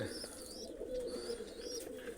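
Pigeons cooing steadily in a loft as the birds are let out, with a close, continuous murmur of overlapping coos and a few higher calls.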